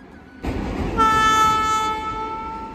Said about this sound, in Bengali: আর দেখতে পাচ্ছেন এদিক থেকে ট্রেন যাচ্ছে